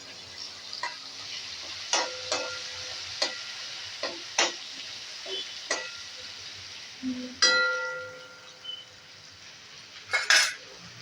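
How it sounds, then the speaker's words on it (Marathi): A spoon clinks and scrapes against a pan as a tempering with turmeric is stirred for bharangi bhaji. Sharp metallic taps land every second or so over a soft, steady sizzle, close and fairly quiet. "आता ही फोडणी चांगली परतून घ्यायची आहे"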